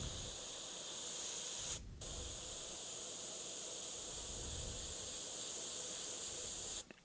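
An airbrush sprays thinned paint in a steady, close hiss, with one brief break near the start and a cutoff at the end.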